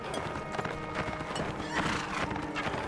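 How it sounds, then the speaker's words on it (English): Horses gallop through a video game battle, with a dense, loud clatter of hooves and battle noise filling the scene and no voices. "Got one of their really fast horses."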